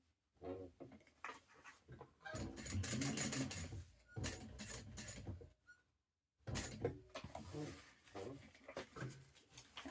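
A sewing machine stitches fabric in two sustained whirring runs separated by a brief silent pause, recorded up close at moderate volume without talk.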